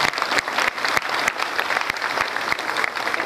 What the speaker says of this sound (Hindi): जरा तालियों से स्वागत होना चाहिए